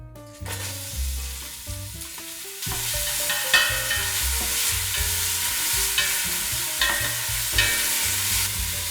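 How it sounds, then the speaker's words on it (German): Loud sizzling of spices frying in hot oil, a crackling hiss that swells as they hit the pan, with occasional stirring scrapes and no talking. "Dann in heißem Öl kurz anbraten."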